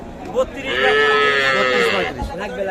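A Sahiwal calf lets out one long, drawn-out moo close by, loud and steady, with brief murmurs of people just before and after, at a cattle farm.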